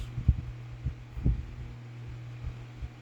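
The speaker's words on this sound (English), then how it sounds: "I got 2 fans that are always on." A steady low hum of electric pedestal fans drones indoors throughout, with a few soft dull thumps rising above it now and then.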